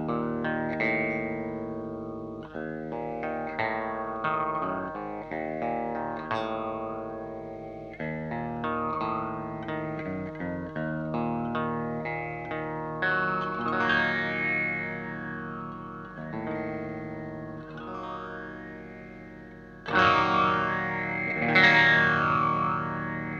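An electric guitar played through an EQD Interstellar Orbiter effects pedal rings out in sustained, filtered chords and notes. It has sweeping, swirling modulation, echo and reverb tails, plays close with no talking, and ends in a brighter, louder passage.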